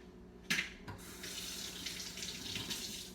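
Water runs steadily from a kitchen sink tap after a brief thump, a continuous hiss and splash that stays close and fairly quiet with no talking.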